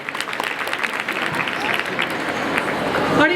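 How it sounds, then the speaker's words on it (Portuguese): Audience applause for a presenter at a live Ayurveda cooking talk, a dense steady patter of clapping that holds throughout and swells slightly toward the end. "Uma salva de palmas."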